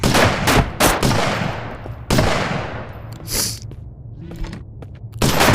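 Gunfire in the VR shooter game Shotwood VR, heard as several loud, close shots with long decaying reverb tails, spaced apart by brief pauses.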